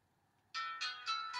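A phone ringtone chirps in four quick repeated bursts, fairly faint and close by, breaking into a quiet pause during a narrated card game match.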